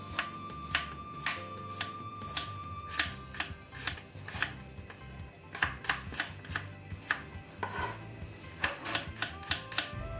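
A knife slices three garlic cloves thinly on a cutting board, giving quick, close, irregular taps over a quiet kitchen background with no talking.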